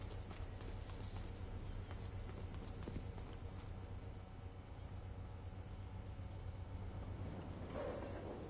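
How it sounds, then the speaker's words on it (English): Steady footsteps thud in a third-person action video game, a rhythmic clip-clop of treads running through most of the stretch over a constant low background drone. "Why did I hear footsteps?"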